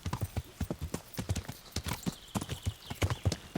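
Horse hooves clip-clop steadily and close in the medieval open-world game Kingdom Come: Deliverance, a brisk rhythmic gait of sharp thuds running throughout.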